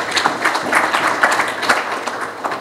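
Applause from an audience at a football club event with government officials, a dense burst of many hands clapping together, close and fairly loud throughout.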